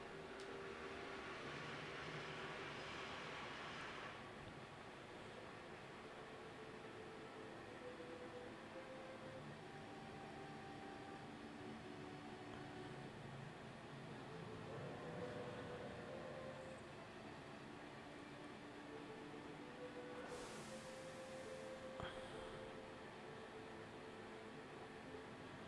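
Steady rumbling train ride in the Final Fantasy VII game, a continuous broadband rolling noise with faint tonal hums and a brief brighter burst partway through, no voices.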